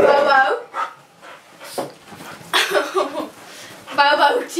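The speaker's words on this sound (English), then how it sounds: "This is Bobo. He's a boy and he's a Labrador." A male Labrador pants heavily and lets out soft whimpers up close, in uneven bursts. A person's voice mixes in now and then.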